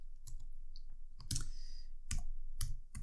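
Keys tapped on a computer keyboard during coding, a few quick close clicks in short bursts with brief pauses between them.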